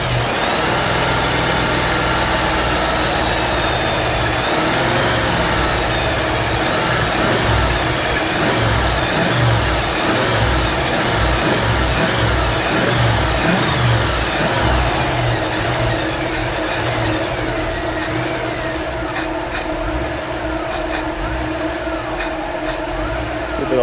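1956 Chevrolet hot rod engine cranking and then revving, a loud close rumble with repeated throttle blips rising and falling over a steady idle.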